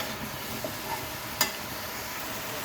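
Leafy greens being stirred in a frying pan, a soft steady sizzle with faint scraping and one brief sharp clink of the spoon partway through, quiet and close with no talk.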